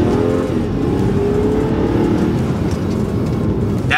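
A BMW car engine runs close up with a loud, steady low rumble and slight fluctuations in revs, alone without talk.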